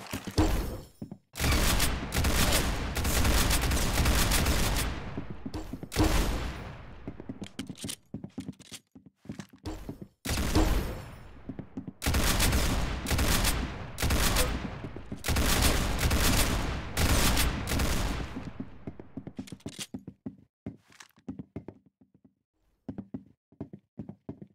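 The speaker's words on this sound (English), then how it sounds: "Very good shooting." Rapid gunfire in long continuous bursts, loud and close, broken by short pauses between volleys and trailing off into sparse single shots toward the end.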